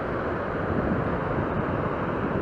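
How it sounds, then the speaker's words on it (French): Wind rumbles against the microphone at the beach, a dense continuous roar that stays loud and even throughout, with no speech. "Là si je tourne un peu par là, il y a un peu moins de vent."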